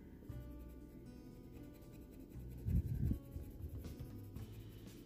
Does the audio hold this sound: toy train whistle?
no